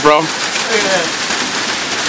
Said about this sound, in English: we're going through a fucking monsoon here